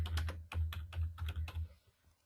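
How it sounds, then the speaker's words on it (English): Keys clatter on a computer keyboard, a short burst of about a dozen close, rhythmic taps that trails off into quiet. "If they want to type something,"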